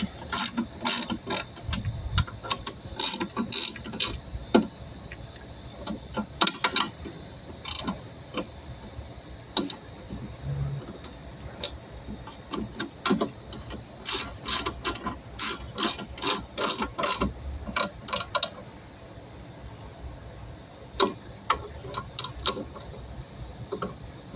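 A ratchet wrench clicks in quick bursts of pawl ticks while tightening screws during reassembly, with repeated close, crisp clicking runs and short pauses between strokes and no talking.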